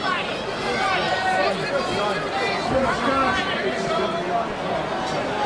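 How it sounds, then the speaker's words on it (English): Crowd noise at an outdoor MMA fight held in a casino parking lot: a steady, fairly loud wash of chatter and babble from many spectators, continuous throughout with no single voice standing out. "Great crowd."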